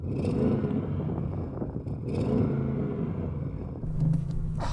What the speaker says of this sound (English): So I'm in full sports mode. I'm going to rev mine up.